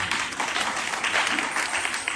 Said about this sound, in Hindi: आप सब ने तालियों की गड़गड़ाहट से हमारे इन विचारों का, इस पक्ष का समर्थन किया।